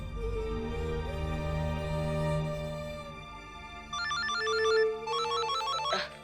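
A mobile phone ringtone chimes in a Hindi TV drama scene. It starts about two-thirds of the way in as a repeating electronic melody, fairly loud and close, after steady background music.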